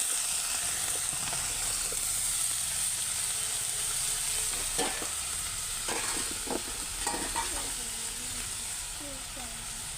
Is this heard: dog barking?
no